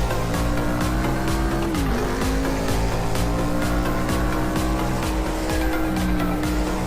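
A NASCAR stock car in a racing video game laps the Le Mans circuit, its engine droning loud and steady and sliding in pitch through gear changes, with brief tire squeal mixed in.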